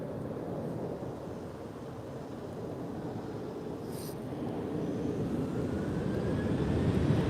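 An airliner taking off or landing at Lisbon airport, a broad steady jet roar heard from a distance, slowly growing louder toward the end.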